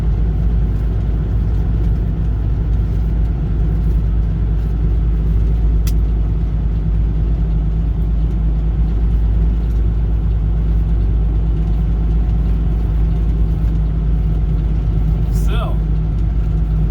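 Steady traffic on a tiny back road leading toward a small lake, a continuous low engine rumble with cars going by throughout, one brief higher whine near the end, heard from inside a vehicle with talk underneath.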